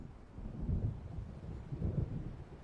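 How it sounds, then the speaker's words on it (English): Thunder from an approaching storm in the video game Alan Wake Remastered rolls in two low, muffled swells. It is faint and distant, with a soft windy hiss underneath. "It seems there's a storm coming."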